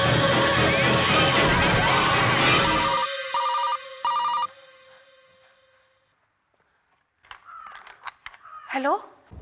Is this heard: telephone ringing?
yes